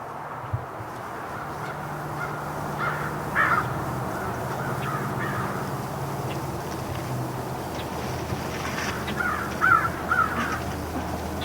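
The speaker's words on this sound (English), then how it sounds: "Like the amount of crows that are right now around the property." Crows caw from trees around a rural property, a few harsh calls at a moderate distance over a steady outdoor background hiss, with clusters of caws near the start and again toward the end.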